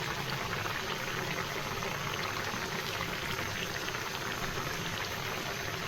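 Vegetable curry with tomato simmers in a pan as its water cooks off, giving a steady, close bubbling and hissing that runs unbroken throughout with no voices.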